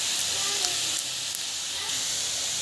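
Tomatoes, coriander, mint and asafoetida sautéing in a pan give off a steady, close sizzle and hiss, with a few faint clicks and pops scattered over the continuous frying noise.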